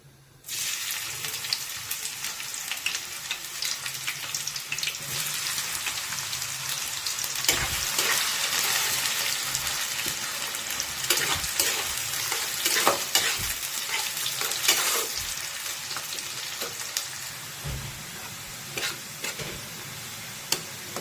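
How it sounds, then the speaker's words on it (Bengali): Onions frying in hot oil in a kadai for biryani, a steady dense sizzle running throughout, with occasional louder crackles and stirring scrapes, close and alone without voices. "তেল গরম হয়ে গেছে, এবার পেঁয়াজটা দিয়ে দেবো।"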